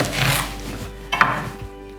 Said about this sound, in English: So chopping in the machine.